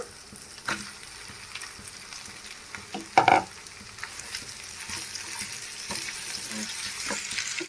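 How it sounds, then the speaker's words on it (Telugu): Marinated chicken for a chicken fry biryani sizzles steadily in a pan while it is stirred, with scraping and light knocks and one louder clatter midway. "చూడండి, చికెన్ అయితే వేసుకొని బాగా కలుపుకున్నాను."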